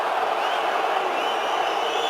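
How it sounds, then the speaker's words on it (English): A large rugby stadium crowd at a European Champions Cup match boos over a disputed forward pass, giving a steady, dense roar of massed voices throughout with no clear individual sounds. "The crowd are booing."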